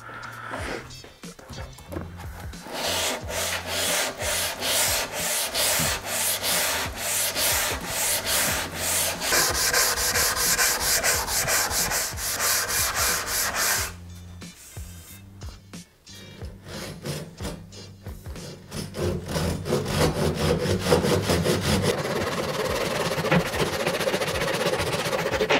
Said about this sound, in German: Jetzt nehme ich mir hier den Handschleifer und fange an, fleißig zu schleifen.